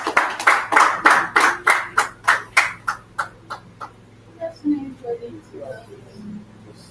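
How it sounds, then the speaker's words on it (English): An audience at a business summit claps together in a loud, rhythmic burst of about a dozen beats, then trails off into a few scattered, fading claps. "Please, a round of applause for her."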